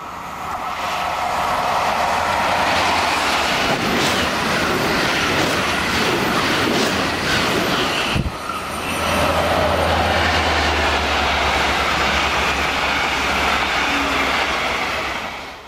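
Loco-hauled passenger train number 1525 racing through Trekhorna, a loud sustained roar of wheels and rail noise with a low engine drone, passing close by for the whole stretch with a brief jolt midway.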